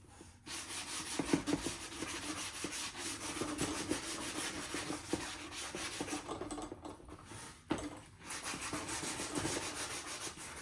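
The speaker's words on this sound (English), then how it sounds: "But then I take a sanding pad" Steady, gritty rubbing of a sanding pad against the edge of artwork mounted to a board, close and fairly quiet, with repeated back-and-forth strokes and a brief pause near the end.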